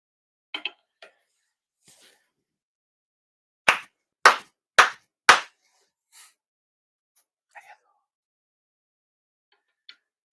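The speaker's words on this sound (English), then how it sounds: "Shido four sincere claps" Four sharp, evenly spaced hand claps ring out in a quiet hall during a Shinto end-of-year purification ceremony, with soft rustles and faint scattered taps before and after.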